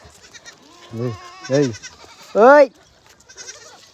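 A domestic male goat bleats loudly three times in quick succession at close range, each call a wavering nasal cry, while a person talks over the calls.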